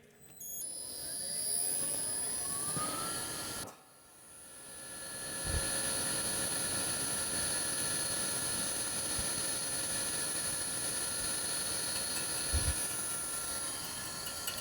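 A machine cuts the deck of a MINI R53 JCW engine block, producing a high steady whine with tonal overtones; it briefly drops out, then resumes with a rising hum and occasional low thumps, fairly quiet overall.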